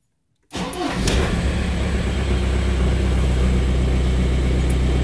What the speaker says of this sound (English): So let's turn on engine.